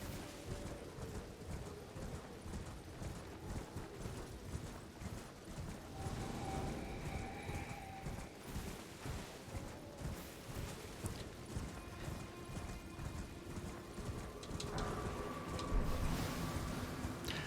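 Horse galloping in the Elden Ring video game, a steady rhythmic clip-clop of hooves, fairly faint, continuing with some surges and ambient game noise.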